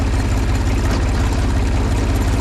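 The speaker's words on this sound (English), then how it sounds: "3-cylinder Kubota with a General Motors, with a GM 6-speed automatic" A 3-cylinder Kubota diesel on a wood pellet delivery truck, paired with a GM 6-speed automatic, runs loud and close with a steady, rapid low-pitched throb and no pauses.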